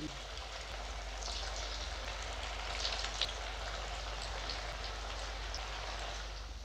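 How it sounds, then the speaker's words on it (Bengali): Round Manchurian balls fry in hot oil in a home kitchen wok, a steady quiet crackling sizzle that runs throughout with faint background noise. "এবারে এটাকে আমি ভেজে নেব।"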